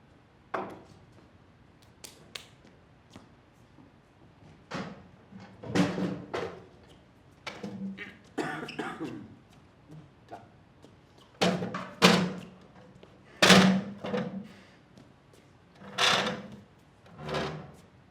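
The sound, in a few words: chairs being fetched and set down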